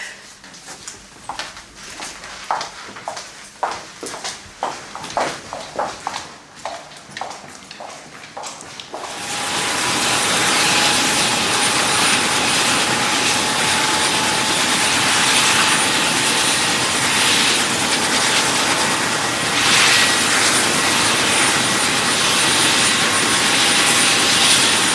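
A presidential helicopter rises to a loud, steady roar with a high whine, starting abruptly after a stretch of quieter, scattered sounds and holding continuously at close range.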